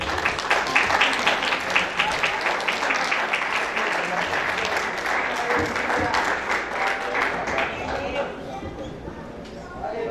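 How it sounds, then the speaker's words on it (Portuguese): Church congregation applauding during a worship service at an anniversary celebration, dense steady clapping filling the room for about eight seconds before easing slightly, with voices mixed in. "Dá um aplauso para Jesus aí."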